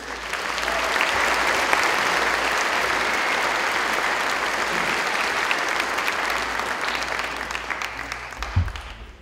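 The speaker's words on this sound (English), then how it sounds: "Let's give Amy Huffman and Dustin Green another round of applause" Graduation audience at a community college ceremony gives a sustained round of dense applause that fills the hall steadily for about nine seconds, tapering slightly at the end with a brief thump.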